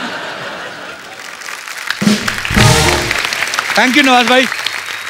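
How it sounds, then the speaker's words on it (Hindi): Studio audience on a Hindi comedy chat show bursts into applause and some laughter, loud and close, while a host speaks briefly over the clapping before it settles. "प्लीज जोरदार तालियां"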